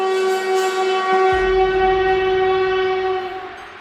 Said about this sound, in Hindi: अचानक उसे ट्रेन की सीटी सुनाई।